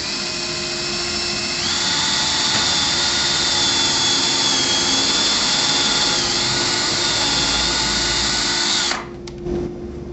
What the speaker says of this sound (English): First we'll need to pre-drill and countersink.